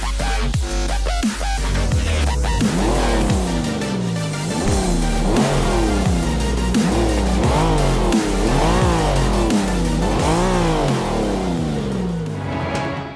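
A GMC Cyclone in Forza Motorsport 5 at Mount Panorama, Bathurst, roars loudly through repeated rising revs and gear shifts, the engine note climbing and dropping in a steady rhythm.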